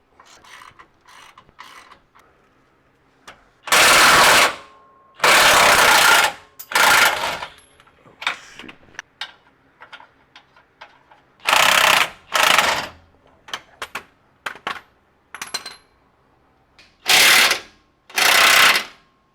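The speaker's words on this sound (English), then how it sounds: "Looks like it's good old ratchet time." A power ratchet drives bolts during a lift kit install on a Jeep Rubicon 392, sounding in loud, separate bursts of a second or so each, repeated several times between quieter clicks and handling noises.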